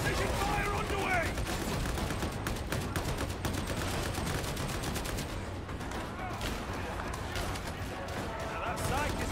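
Rapid video-game gunfire rattles on in dense, continuous bursts of shots, loud and busy over a steady background rumble.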